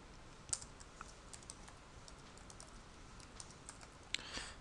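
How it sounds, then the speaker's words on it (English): Keys tapped on a computer keyboard while a username and password are entered, a quiet, sparse run of light clicks with a couple of sharper taps, faint against a steady background hiss. "You type that in."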